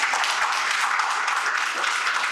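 Audience at a Reddy Business Group meet applauding, a dense, steady wash of many hands clapping at once with no voices on top, holding evenly throughout.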